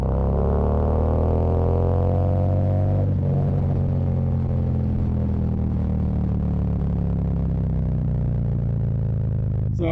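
A Harley-Davidson Road King Special with Stage 1 performance upgrades and Cobra Pro Chamber exhaust accelerating, its deep engine rumble holding close and loud for the full stretch as the pitch climbs steadily through the run.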